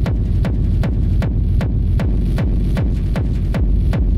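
A heavy, distorted kick drum pounds in a steady four-on-the-floor pulse, booming low end with sharp clicky attacks, loud and alone.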